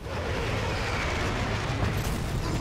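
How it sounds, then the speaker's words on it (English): Airstrike explosions rumble continuously through a battle in the video game Dirty Bomb, a dense, loud roar of blasts with no clear pauses. "they straight up called in airstrikes as we breached that wall"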